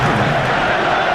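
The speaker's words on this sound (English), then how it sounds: "Crowd doing their bit." Football crowd at an England vs Ghana World Cup match, a dense, continuous roar of stadium noise with chanting voices, loud and unbroken over a brief moment.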